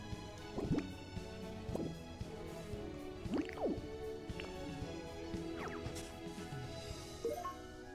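Water drips and splashes in the game Pokopia, a scattering of quick liquid plinks at irregular intervals, soft and close over a quiet background.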